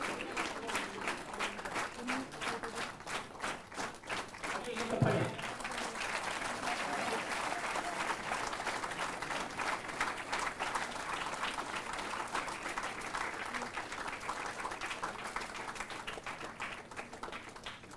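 Sustained audience clapping at a school environment day event, many hands in a long even patter, with a brief thump partway through and the applause carrying on steadily to the end.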